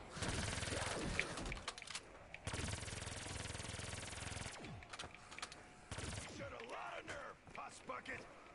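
Vesper gun firing at zombies in a video game, heard as long sustained bursts of rapid automatic fire with short pauses between them, loud and close, with voices talking over parts of it.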